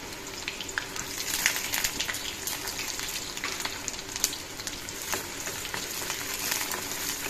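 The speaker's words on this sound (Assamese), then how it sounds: "কেৰাহীটো তেল গৰম কৰি দিছো পিঁয়াজখিনি দি দিলো কেঁচা জলকীয়া দুটা দিলো" Onions and green chillies fry in hot oil in a wok, giving a loud, steady sizzle with continuous crackling close by.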